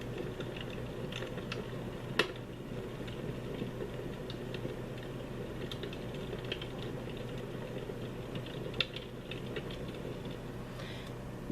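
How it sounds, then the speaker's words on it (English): Soft fireplace crackle from a white noise sleep machine: a low steady hiss scattered with faint pops and a few sharper snaps, even and unbroken throughout. "fireplace."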